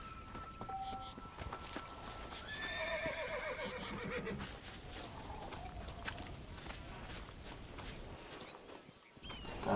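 Agitated horse in the video game Red Dead Redemption, whinnying loudly and close over hoof clip-clops and rustling, with a muffled voice in the background.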